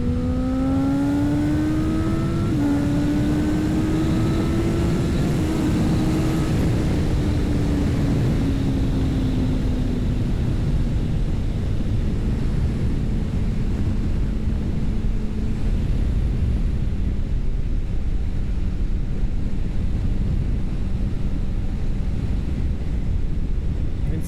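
A motorcycle accelerates hard from close range with a rising engine whine through quick gear shifts, blanketed by heavy wind rush that stays loud as the pitch drops and the bike cruises on.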